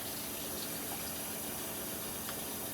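Warm water running steadily from a kitchen tap while bread dough is being made, a faint, even gushing stream with no voices.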